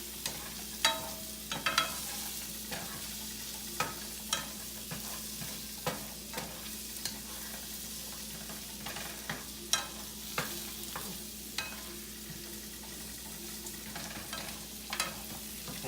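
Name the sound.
vegetables and chili sizzling while stirred in a hot pan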